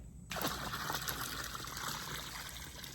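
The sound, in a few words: pouring liquid into water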